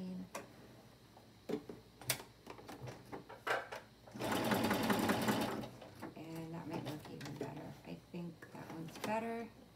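Sewing machine stitching two layers of very thin stretch knit fabric such as spandex nylon at a tighter 2.5 stitch length, a loud steady whir for about a second and a half amid quieter ticks and handling clicks, with a voice talking around it.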